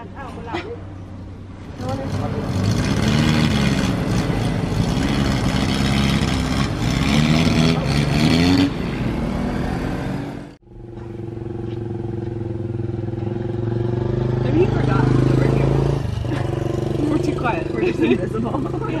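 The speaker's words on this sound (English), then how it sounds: "Time to find a tuk-tuk into town." A tuk-tuk engine runs steadily and loud throughout a ride into town, with a sharp drop around the middle before it picks up again; people talk over the engine noise.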